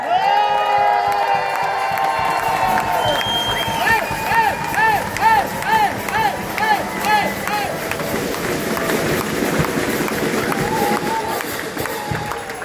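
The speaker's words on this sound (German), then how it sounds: "Das ist euer Applaus." Crowd of shalmei band members and spectators cheering, shouting and clapping outdoors after a successful record attempt, a loud sustained roar with high excited voices and tonal band notes mixed in, near and continuous.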